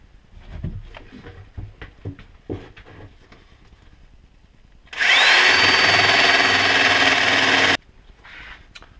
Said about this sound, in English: grind off the rivets that hold the blades onto the bottom of the skate